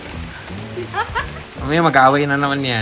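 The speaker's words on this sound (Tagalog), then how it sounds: "Braving the rain." Steady rain falls throughout a rainy trip to Dahilayan Adventure Park in Bukidnon, a constant hiss beneath voices that talk over it for most of the clip.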